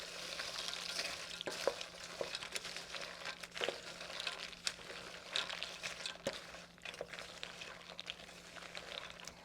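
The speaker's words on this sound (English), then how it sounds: "I'm going to stir them around till everything's nice and coated evenly" Nine ounces of oyster crackers are stirred to coat them evenly for a sweet and spicy snack, giving a soft continuous rustle with repeated light scraping and crinkling strokes, fairly quiet and close.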